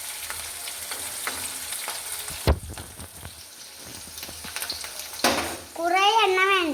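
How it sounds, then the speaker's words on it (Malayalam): Seer fish pickle sizzles in oil while curry leaves are stirred in, with a crackling fry, spoon scrapes and a sharp burst as the leaves hit, then a voice speaks over it at the end. "കറിവേപ്പിൻ്റെ ഇല ഇട്ടിട്ട് ഇളക്കി കൊടുക്കണം"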